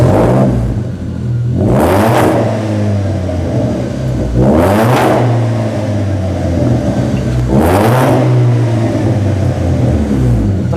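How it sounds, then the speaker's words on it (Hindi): A car with a modified exhaust revs hard three times in a row, each sharp rising roar falling back to a deep, bassy, loud burbling idle between blips. "तो गाइस आप इसकी एक बार साउंड सुनिएगा, ज़बरदस्त एग्जॉस्ट नॉट है।"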